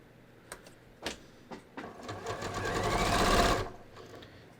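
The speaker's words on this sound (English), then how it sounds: "I'm just going to stitch to the corner." Sewing machine stitching the top edge of a pocket on ready-to-wear pants, starting with a few short bursts, then running steadily and building to a louder, close stitching run before stopping.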